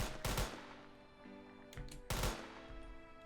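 Gunfire in the video game Modest Hero: two loud, sharp bursts of rapid shots with a quieter patter between them, clear and close with no talk.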